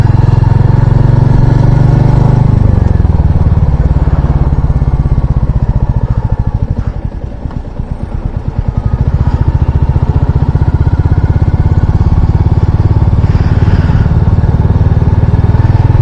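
A motorcycle rides along a road through dense forest, its engine loud, close and steady throughout, with a brief dip and fluttering rumble midway before the drone resumes.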